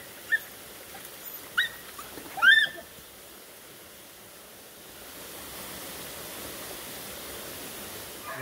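Hunting dogs on a paca hunt give a few short barks and yelps in the first three seconds, moderately distant, followed by steady outdoor background noise like rushing water.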